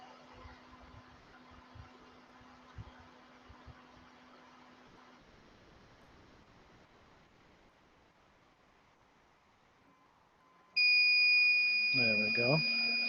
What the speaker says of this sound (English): The alarm's going to come off and let me know it's off.